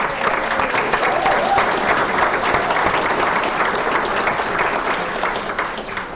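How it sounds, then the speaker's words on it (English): Sustained applause from an audience at a high school education hall of fame induction dinner, a dense, steady wash of clapping filling the room and holding level before easing slightly at the end. "if we could have another round of applause"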